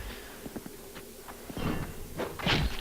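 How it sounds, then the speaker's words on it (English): Hitting a locked wooden door in the game Dark Souls 2, a series of dull thuds and knocks, sparse at first and then heavier and louder impacts toward the end, with faint background noise. "But if you just hit the door like that, you'll get the guy's attention inside"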